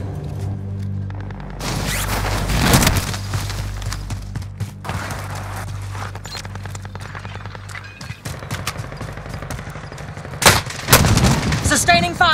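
Gunfire in Call of Duty Warzone on Rebirth Island, with a burst of shots, scattered reports through the middle, and loud cracks near the end, mixed with game music, announcer voice and other battle noise.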